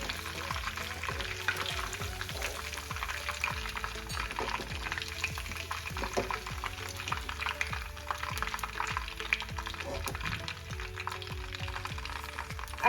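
Soya chunks frying in hot oil give a steady close sizzle with the bubbling crackle of the pan, and repeated soft scraping strokes from stirring run throughout.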